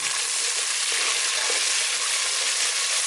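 Large onions frying in a pan for chicken chukka, a dense, steady hiss of sizzling oil throughout with no pauses.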